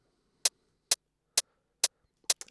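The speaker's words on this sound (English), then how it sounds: "Very, very subtle, sharp hi-hats." A subtle, sharp hi-hat sample plays in a Logic X session, crisp isolated ticks struck at an even pace with clean silence between them, plus a quick double hit at the end.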